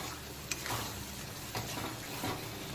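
Spicy chicken kosha masala with ground peanut paste frying in oil, its steady sizzle punctuated by three or four spatula stirs and scrapes against the pan, close and with no talking.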